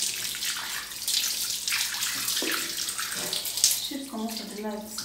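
Water pours steadily from an open tap for a foot wash, a close, continuous rushing splash that fills the whole stretch, with a voice briefly heard near the end.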